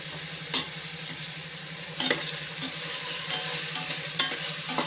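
Vegetable biryani ingredients are stirred in a pressure cooker, a quiet sizzle underneath sharp periodic scrapes of the spoon against the metal pot.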